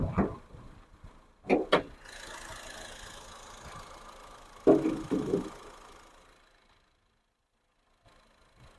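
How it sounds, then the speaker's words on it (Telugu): A Honda Brio's engine idles quietly as a low, steady hum, opened by a few sharp knocks and thumps. The hum fades out into near silence before a faint sound returns at the end. "ఇంజన్ చూసుకోండి, చాలా సైలెంట్గా ఉందండి ఇంజన్ అయితే"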